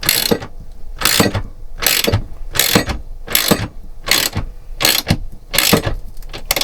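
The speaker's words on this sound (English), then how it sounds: "keep winding this one up until I hear it crunch a bit" A TV bracket clamp being wound tight onto a caravan shelf in a 2010 Bailey Pegasus 462 gives eight evenly spaced bursts of ratcheting, creaking clicks, each about half a second long and close by, with no talking.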